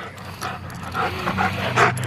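A dog panting heavily and rapidly, close and loud, with a faint whimper mixed into the breathing and no talking.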